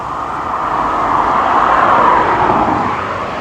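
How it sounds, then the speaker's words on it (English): Steady road traffic roar near tram construction works and new tram stops, a continuous broadband rush that swells slightly mid-way and stays constant throughout, with no voices. "I apologise about the traffic noise."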